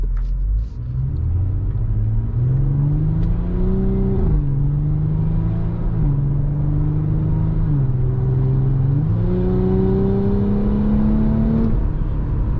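A 2018 Audi SQ5 SUV driven on the road, its engine rumbling steadily and rising in pitch through several accelerations, with tire and road noise continuous throughout and no talking.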